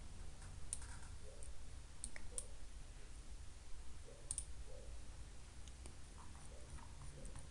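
A computer mouse clicking in a quiet room, a handful of sharp, faint single clicks spaced irregularly over a low steady hum.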